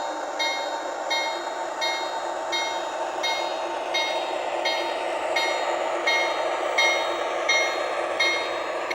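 A Lionel CSX Santa toy model train runs with a continuous mechanical whir, punctuated by regular clicks about once a second, close by and steady.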